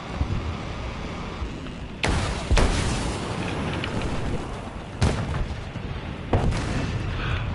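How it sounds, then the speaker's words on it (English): Bombs explode in the War Thunder video game amid constant loud roaring battle noise, with several sharp booming blasts breaking through at irregular intervals. "I can bomb him."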